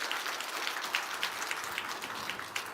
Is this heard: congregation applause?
yes